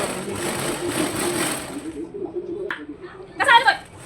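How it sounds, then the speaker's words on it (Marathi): A sewing machine runs steadily and close by for about two seconds, stitching a sleeve lining, then stops. Soft handling sounds follow, and a brief voice is heard near the end. "आता साईडचं जे काही अस्तर आहे त्याला चारी बाजूने शिलाई मारून घ्यायचं आहे"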